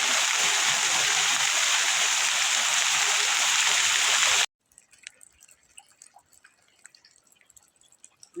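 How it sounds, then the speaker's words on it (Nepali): Rain pours in a dense, loud, even hiss that cuts off abruptly partway through, leaving faint scattered drips and quiet noise. "ल पानी पऱ्यो भाइ"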